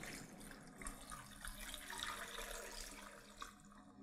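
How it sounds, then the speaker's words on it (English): Tap water running into a pot for chicken bone broth, a continuous splashing gush that stays fairly quiet and steady throughout, with no voices. "So next I'm going to fill this up with water."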